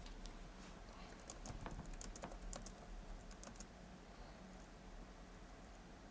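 Rapid clicking of typing on a computer keyboard, a burst of close keystrokes in the first few seconds that thins out, over faint steady room noise with no talk.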